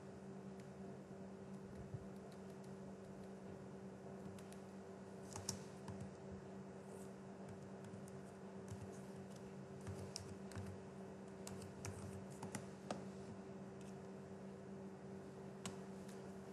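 Keys on a computer keyboard are tapped in faint, scattered clicks over a steady background hum, close to the microphone, with no talking.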